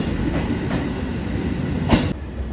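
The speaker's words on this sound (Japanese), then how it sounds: "高松駅7時17分運用に着くために入線しました。 8000系特急電車リニューアル車です。" A renovated JR Shikoku 8000 series limited express electric train pulls into Takamatsu Station, a steady rolling rumble with faint wheel clatter building, then a brief brighter squeal or clank near the end before the sound drops.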